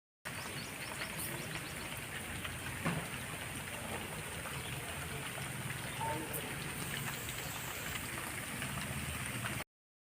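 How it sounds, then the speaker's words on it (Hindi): A garden water sprinkler sprays water over plants in a home courtyard, a steady rain-like hiss of droplets pattering continuously at even loudness, with no talk over it. "भीष्मा जी, ये तो बारिश जैसा हो रहा है।"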